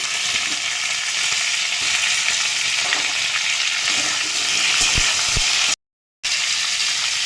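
Mixed vegetables including beans, carrot, papaya and pumpkin frying in a pan for a Bengali labra, a continuous loud sizzle with occasional scraping stirs, brief cutout near the end, no voices.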